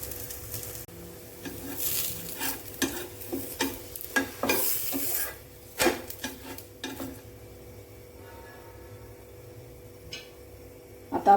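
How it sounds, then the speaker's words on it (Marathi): Poha thalipeeth flatbread roasting in a pan, with a steady soft sizzle under intermittent scraping and stirring clatter from a utensil against the pan, close by and with no talking. "छान असं दोन्ही साइडने खरपूस आपल्याला भाजून घ्यायचं आहे। आता मी दुसऱ्या साइडने पलटी करते।"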